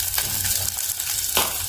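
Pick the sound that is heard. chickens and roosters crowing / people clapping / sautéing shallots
sautéing shallots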